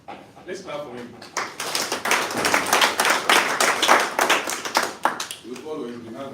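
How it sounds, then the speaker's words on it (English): An audience at a Northern Uganda bodybuilding championship claps for a posing bodybuilder, a steady, fairly loud patter of many hands that swells in the middle and fades, with a voice talking at the start and end. "Let's clap for him."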